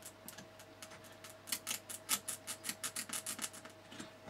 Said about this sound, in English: I've just pulled it out of the socket a little bit and shoved it back in